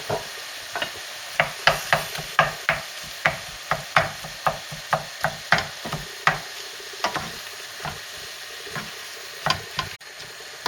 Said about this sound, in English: Now it's ready to add the meat into the mixture.